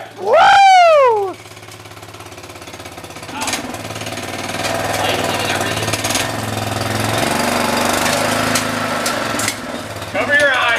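An old go-kart engine with a live axle revs up in a loud rising whine, then settles into a rough, steady running drone that lasts several seconds before another rev at the end, with voices cheering over the start.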